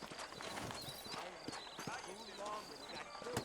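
Horse hooves clip-clop at a walk in Red Dead Redemption (2010, PS3), with a steady, moderately close trot of saddled horses under ongoing spoken dialogue.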